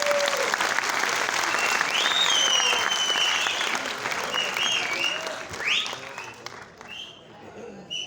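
A theatre audience applauds after a stage drama about Kashmir, sustained loud clapping from a large crowd that gradually thins and fades, with a voice speaking over it toward the end.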